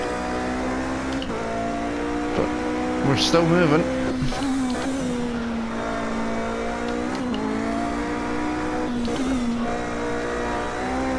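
A Toyota TS050 Hybrid race car in a racing video game holds a loud, steady engine whine that shifts pitch through gear changes while someone talks over it.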